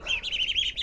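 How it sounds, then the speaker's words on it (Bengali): Caged Peking ducklings on a small duck farm give a quick run of high-pitched peeps, close and soft, continuous through the brief moment with no voices. "এগুলো হয়েছে বেজিং হাঁসের বাচ্চা।"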